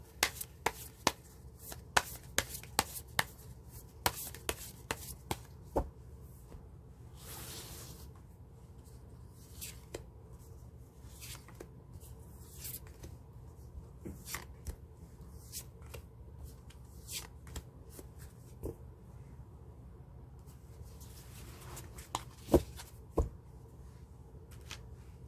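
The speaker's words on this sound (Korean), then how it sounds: "카드 셔플은 끝났고요" Tarot cards are shuffled by hand in a quiet room, a run of crisp riffling snaps and soft slides repeating in bursts, close and fairly quiet, with no talking.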